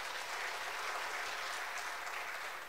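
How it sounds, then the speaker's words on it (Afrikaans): A church congregation applauds the young church band, giving a dense, steady burst of clapping that fills the room with no talk over it. "Julle kan hulle hande klap as julle wil."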